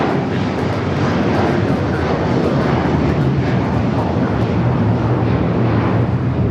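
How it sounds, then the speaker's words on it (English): A United Airlines Boeing 757-300 takes off from Los Angeles LAX toward Chicago, a loud, dense and constant engine roar filling the whole stretch with no voices. "This is United Airlines 2113 taking off to Chicago on the 757-300"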